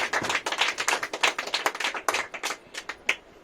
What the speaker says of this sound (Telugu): సంతోషంగా వారు గట్టిగా చప్పట్లు కొడుతూ ప్రభువుని మహిమపరుచుకుంటున్నారు